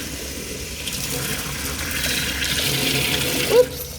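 Water poured into a measuring container, a continuous splashing flow that builds slightly before a brief gurgle near the end, with a short spoken exclamation.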